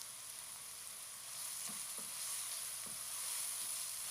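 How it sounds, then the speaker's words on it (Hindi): Chopped tomatoes and finely cut green chillies frying over a medium flame in a pan, a steady close sizzle with a few light scrapes of stirring, no talking. "नरम होने तक हम फ्राई कर लेंगे ताकि टमाटर जो हैं वो भी अच्छी तरह से सॉफ्ट हो जाएं और मिर्चें भी फ्राई हो जाएं"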